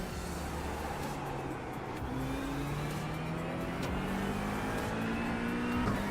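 An LMP2 prototype race car passes at Daytona in a racing video game, with a steady, loud engine drone that rises in pitch as it goes by amid other car noise.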